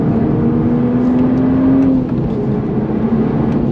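Loud onboard engine note of a 2023 Toyota GR Supra with manual transmission accelerating on a race track, a steady rising drone that briefly dips near the middle, with no talking.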